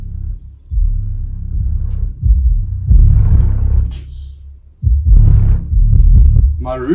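A Klipsch RP1400SW subwoofer plays loud bass at high volume in a room, deep rumbling low-end swelling and dropping in sections, with quieter passages between heavy surges and a few brief higher noises on top.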